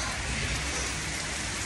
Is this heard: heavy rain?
yes